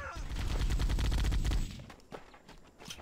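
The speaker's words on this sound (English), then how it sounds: "il y a un minigun, un machine gun aussi" Minigun and machine gun fire in Halo: Combat Evolved: a dense, continuous roaring burst of rapid shots for about a second and a half. The firing cuts off and is followed by quieter scattered impacts and game noise.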